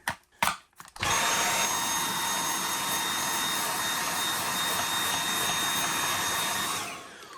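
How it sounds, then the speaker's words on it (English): A vacuum cleaner sucks dust from inside a PlayStation 5 console, starting after a few handling knocks with a steady, loud, close whooshing roar that holds for several seconds before winding down. "Now we're gonna vacuum. We're gonna vacuum this up and get rid of this dust here."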